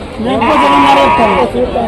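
Sheep bleat loudly and close by at a busy village animal market, with a wavering, sustained cry over a background of crowd chatter.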